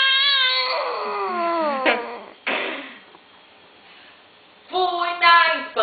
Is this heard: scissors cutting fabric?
no